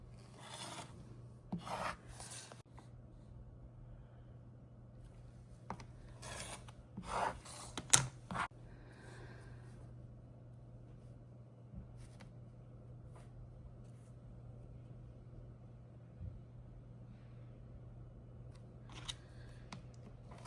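Fabric fat-quarter quilt pieces being cut with a rotary cutter or scissors on a table: a handful of short, quiet scraping strokes clustered early, then sparse faint rubs over low background hum.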